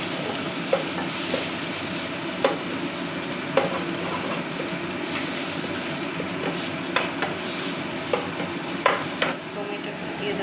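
Raw onions sizzle in hot oil in a home kitchen pan, with a steady frying hiss broken by repeated sharp scrapes and clinks of a spoon stirring, close and moderately loud.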